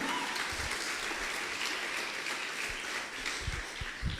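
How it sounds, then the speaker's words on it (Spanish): A church congregation applauds during a sermon, producing a soft, continuous wash of clapping that sounds fairly distant and steady, with a few louder thumps near the end. "¿Alguien le da un aplauso al Señor?"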